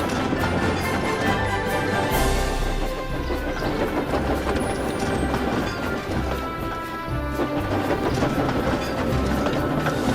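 A steam engine hauls a local passenger train, its wheels and carriages rumbling steadily with rhythmic clattering over the track.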